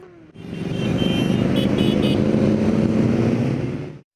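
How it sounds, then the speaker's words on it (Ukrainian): A long column of motorcycles riding into central Vinnytsia at a season-closing charity ride of nearly 200 bikers, a dense, steady engine roar that swells in quickly, holds loud and close for a few seconds, then cuts off. "Довжелезною колоною рухаються до центру Вінниці"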